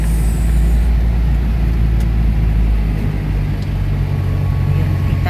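Buses idling and moving at the Genesis bus terminal in Baguio City, a heavy, steady low engine rumble close by with a faint hiss near the start that could be air brakes releasing.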